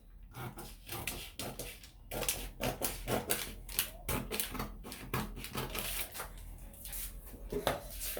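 Scissors cut through fabric for a corset top, giving a close, steady run of crisp snips and rustling cloth with no talking.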